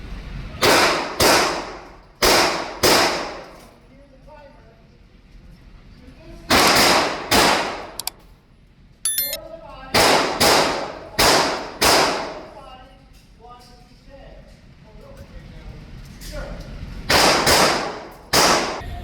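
Loud, sharp gunshots ring out at a shooting competition, fired in quick pairs and short strings with brief pauses between, each crack followed by a short echo, with a faint electronic beep partway through.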